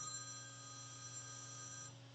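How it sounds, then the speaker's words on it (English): A phone alarm rings as a faint, steady electronic tone that holds for about two seconds and then cuts off, with no one talking. "That was my alarm."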